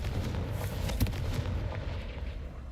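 A Confringo fire spell bursts in Hogwarts Legacy amid a dense rumbling, crackling din, with one sharper blast near the middle over continuous low booms, no voices.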